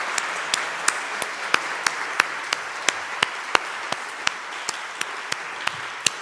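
A convocation audience at Union Theological Seminary applauds returning students, with steady, crisp clapping from a crowd and sharp individual claps standing out throughout.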